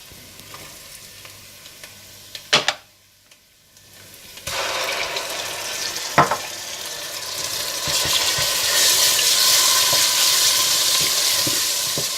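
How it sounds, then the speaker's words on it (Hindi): Green chillies, ginger and garlic fry with lightly browned onions in a pan for dal, giving a loud, steady sizzle that starts after a short pause, swells over time and is dotted with a few sharp clicks. "जब प्याज हल्के से ब्राउन होने लगे तो इसमें हरी मिर्चें और अदरक लहसुन डालकर भूनें"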